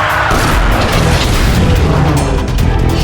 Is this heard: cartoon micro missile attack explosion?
yes